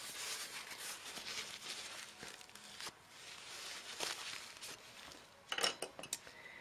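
A palette knife is wiped clean beside a painting of a redhead drake's head, with faint clinks, light scrapes and soft handling noises close by, ending in a short cluster of sharper metallic taps.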